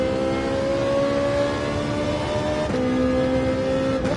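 A race car engine in a racing video game holds a steady high drone, then blips sharply as a quick double downshift drops the revs, loud and close with no talk.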